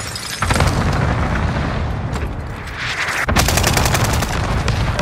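A stun grenade goes off in the video game Warzone amid loud, dense bursts and booming gunfire-like blasts that fill the scene continuously, with a brief dip midway before another sharp blast.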